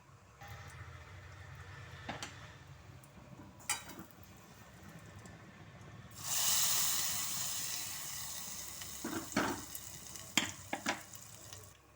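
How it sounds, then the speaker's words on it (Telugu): Curry tempering hits hot oil halfway through with a sudden loud sizzle that slowly settles into steady frying, with a few clinks and stirring knocks around it and no talk. "ఇదిగోండి కూరకు పోపు వేసేసుకున్నాను"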